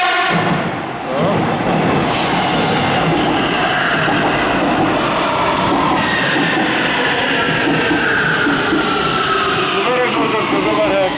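A non-passenger metro train moves through Warsaw's Stadion Narodowy station with a loud, close rumble of wheels and a rising electric whine, and voices murmur faintly beneath the noise.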